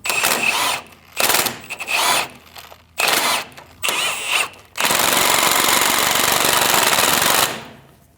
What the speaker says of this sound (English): Now we can come in and snug that nut down.